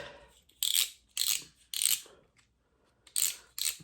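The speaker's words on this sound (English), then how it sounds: "Let's take the cap off this bad boy real quick." Cap being unscrewed from an Okuma Ceymar A spinning fishing reel, five or six crisp ratcheting clicks in short bursts with brief pauses between them, close and clear, with no talking.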